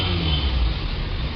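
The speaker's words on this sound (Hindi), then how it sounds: "ये मैंने स्टार्ट किया तो इंजन का साउंड जो है" A Maruti Suzuki Alto hatchback's engine idles steadily with a low, continuous rumble close by; the car is visibly smoking from the exhaust.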